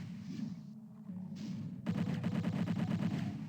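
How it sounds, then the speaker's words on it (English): A chain gun in the Doom game opens up in a rapid, even stream of shots, loud and alone after a quieter stretch of game ambience. "And the chain gun lights up."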